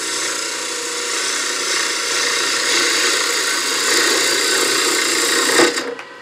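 Wood lathe cutting a small birdhouse ornament: a steady high whine and scraping hiss of the tool on spinning wood, loud and continuous, ending with a brief louder scrape.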